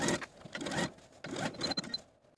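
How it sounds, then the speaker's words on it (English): A sewing machine stitches the curved edges of a woven dress's skirt pockets with a 3/8 inch seam allowance, running in several short, quiet bursts with brief pauses between them. "Sew the curved edges of your pockets together with a 3/8 inch seam allowance."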